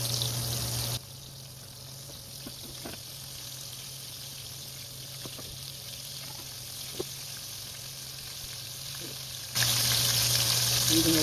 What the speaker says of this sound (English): At this point I'm going to put my splatter screen on there. Just so I'm getting everything all splattered up with grease.